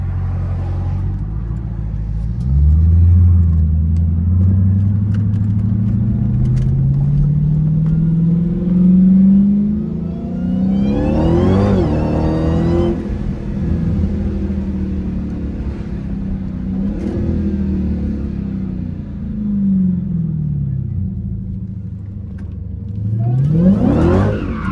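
A Dodge Hellcat engine revs hard and rumbles loudly up close, with rising and falling surges and tire-squealing bursts as the car slides through turns on neighborhood streets, with no talking.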